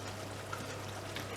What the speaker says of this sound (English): you can crumble it up with just a small amount of water from the kettle and put it